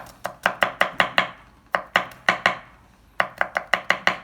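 A knife chops garlic on a cutting board in quick bursts of sharp, evenly spaced knocks, three runs separated by short pauses, close and crisp.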